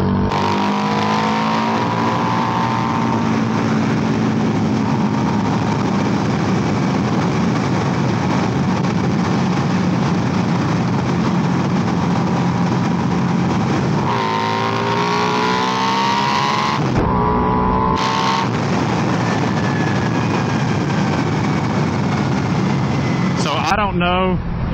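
A Buell Super Cruiser motorcycle engine roars while riding, loud and continuous with wind rush, throttle rising and falling through shifts and a short drop near the end.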